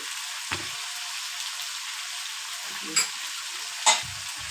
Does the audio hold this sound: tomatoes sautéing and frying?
yes